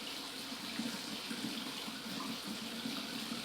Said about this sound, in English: we're going to turn that hot water back on.